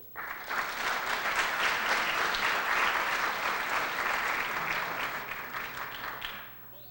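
An audience at an executive-in-residence evening applauding as a speaker is welcomed to the podium, steady dense clapping that starts abruptly, holds for several seconds, then tapers off.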